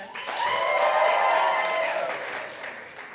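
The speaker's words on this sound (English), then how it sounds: "And please make some noise if you want to hear more from June Chung." Comedy club crowd in New York breaking into applause and cheers for comedian June Chung, clapping that swells quickly after a brief lull, holds steady with mixed shouting, then tapers toward the end.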